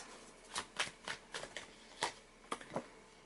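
Tarot cards being shuffled and drawn close up, a quick series of soft riffling snaps and flicks in an irregular rhythm, quiet and alone without talk.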